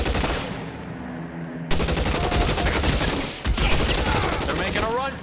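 An overpowered gun blazes in L.A. Noire with loud, rapid, continuous gunfire that rattles on without letup, briefly shifting in character partway through as the shooting carries on.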